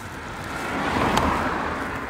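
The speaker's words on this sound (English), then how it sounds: "And the car's coming, so I hold him." A car approaches and passes close by at Jaywick Sands, its road noise rising into a steady broadband whoosh, with no one speaking.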